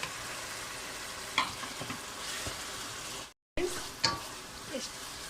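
Onions cooking with tomato puree and ginger garlic paste in a pan make a steady close sizzle, broken by a few spoon clinks and scrapes and one brief gap of silence.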